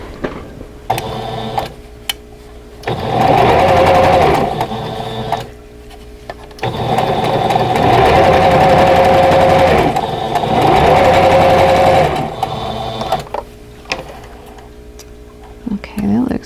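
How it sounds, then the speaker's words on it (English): Sewing machine stitching pinned quilt block pieces for a vintage tulip block, heard as loud, close whirring runs of a few seconds each with pauses between them; a person talks during the quieter gaps. "I'm going to pin that in place and sew it"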